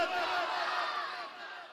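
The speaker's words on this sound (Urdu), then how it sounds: "بلند آواز سے ذرا نعرے کا جواب دیجئے ذوق کے ساتھ" A large crowd at a madrasa turban-tying ceremony roars the Tajdar-e-Khatm-e-Nabuwwat slogan back in unison, one loud sustained collective shout that slowly fades.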